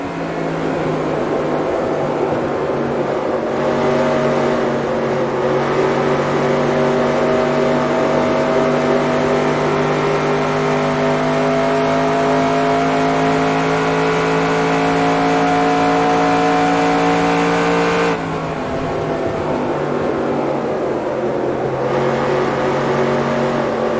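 A race car engine in NASCAR Racing 2002 drones steadily while lapping Michigan Speedway, a loud, sustained buzzing tone that shifts pitch slightly as the car holds speed, with one brief drop near the end.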